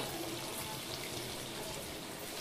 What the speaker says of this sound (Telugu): ఇప్పుడు నీళ్ళు బియ్యం 2 కలిపి పోసేస్తున్నా.